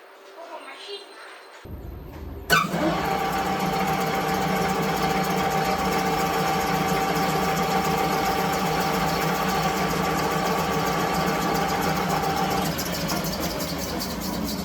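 An aluminium taper turning on a lathe is cut down to its final diameter. After a quiet start, a loud mechanical start-up gives way to a steady, close machine whine and hum that runs through to the end.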